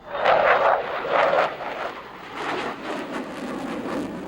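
F-14 Tomcat jet aircraft flying through a tight turn, a broad roaring rush that swells and fades in waves at moderate distance, with no voices over it.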